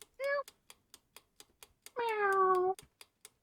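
Two clear cat meows from a cat-finding video game, a short one and then a longer drawn-out one, heard alone over a steady series of light clicks.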